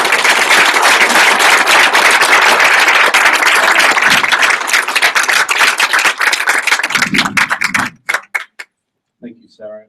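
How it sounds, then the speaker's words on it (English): Loud, sustained applause from a large audience at an evening speaker series event, dense clapping that thins into scattered claps and stops near the end, followed by a brief voice. "one last huge round of applause for Deng Adut"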